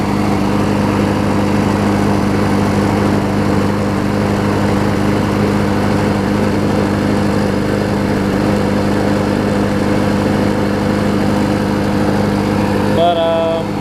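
A freebie John Deere JS63C walk-behind lawn mower runs close by with a steady, throbbing engine drone that still stumbles slightly. A voice speaks faintly over it.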